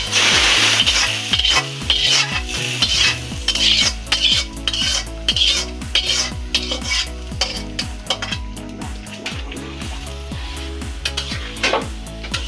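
Tempering spices hitting hot oil and poured into a gourd and mung dal curry, a loud sizzle followed by repeated metal spoon scraping and stirring against the pot, close and rhythmic, no voices.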